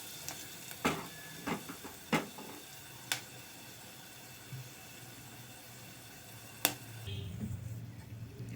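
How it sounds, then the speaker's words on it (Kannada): Greens frying in oil for soppina sambar, a faint, steady hiss broken by a few sharp pops and crackles, growing slightly louder and busier near the end. "ಚೆನ್ನಾಗಿ ಫ್ರೈ ಆಗಬೇಕು. ಅದು ಎಣ್ಣೆಲಿ"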